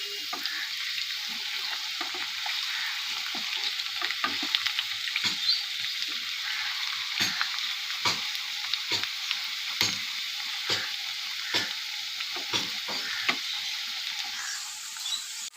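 Potatoes frying in a pan with a paste of cumin powder, chilli powder and tomato, giving a steady close sizzle with repeated scraping stir strokes throughout and no talking.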